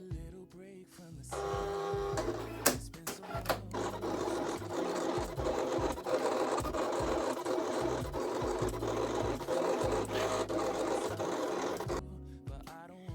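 A Silhouette Cameo 4 cutting machine slices leatherette on a mat, giving a steady mechanical whirring and rasping with motor buzz and brief clicks, continuous and close for most of the stretch before stopping near the end.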